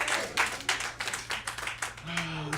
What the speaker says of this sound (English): Please give her a round of applause for putting up with me forever.